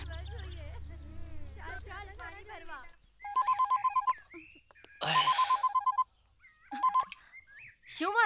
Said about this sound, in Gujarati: કોનો ફોન આવી રહ્યો છે? ઉપાડતો કેમ નથી?